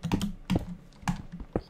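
Computer keyboard typing during a Minecraft UHC game session, a few short bursts of close, clacky keystrokes in an uneven rhythm, heard alone without speech.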